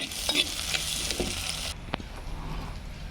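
Onions sizzle and are stirred in a pan for a village-style river fish curry, with a bright hiss that drops away partway through, leaving soft scraping and occasional clinks close by.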